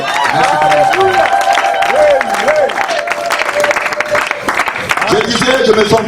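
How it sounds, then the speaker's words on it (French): A church congregation claps and cheers loudly and continuously for several seconds. Voices shout and sing through the applause, with sustained crowd noise throughout. "Acclamons-le encore plus fort."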